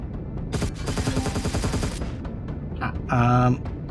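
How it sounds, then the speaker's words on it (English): Gun turret fire in the Empyrion Galactic Survival game, a rapid burst of shots for about one and a half seconds, followed by a brief tonal electronic sound near the end. "I didn't see that gun turret shooting me"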